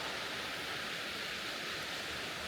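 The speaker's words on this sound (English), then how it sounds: "A Spartan waterfall." A waterfall in the woods of Sparta, in the North Carolina–Virginia mountains, gives off a steady, dense rushing roar that stays constant throughout, with no voices.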